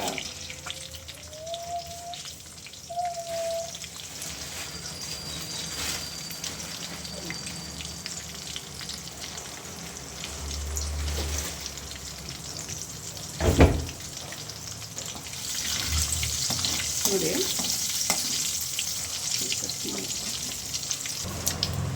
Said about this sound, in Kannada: ಒಗ್ಗರಣೆಗೆ ಸಾಸಿವೆನೂ ಜೀರಿಗೆ ಹಾಕ್ಕೊಂಡಿದ್ದೀನಿ